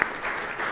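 Audience at a Holi spiritual gathering applauding, a brief, steady wash of clapping at moderate level with no voices over it.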